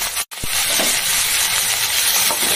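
Potatoes with salt fry loudly in a pan, a steady close sizzle after a brief pause near the start, with a stirring scrape, no talking.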